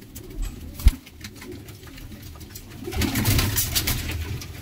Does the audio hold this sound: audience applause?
no